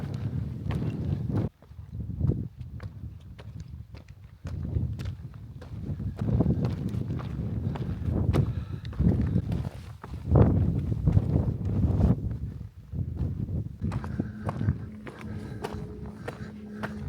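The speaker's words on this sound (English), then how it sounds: "It is fairly warm, but that wind's nice." Wind gusting across a warm mountain summit near Dale Head in the Lake District, buffeting the microphone in uneven rumbling bursts mixed with close footsteps on the path.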